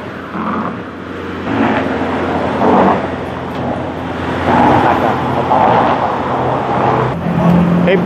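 A vehicle engine revs repeatedly after a black-smoke reduction treatment at a roadside emissions check in Chonburi, Thailand, rising in several surges over a steady idle, close and fairly loud, with people talking nearby.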